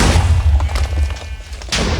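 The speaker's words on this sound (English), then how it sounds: "you press the other one, and you watch it explode" TNT cannon explosion in Minecraft, a loud, rumbling boom that fades, followed by a second sharp blast near the end.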